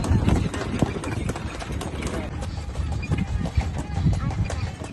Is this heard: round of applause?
no